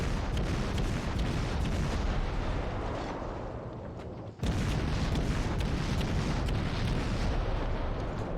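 Naval cruiser guns firing in World of Warships, the US Navy cruiser Atlanta: a dense, continuous roar of artillery rumble that dips briefly midway, then a sharp boom restores the loud, sustained barrage.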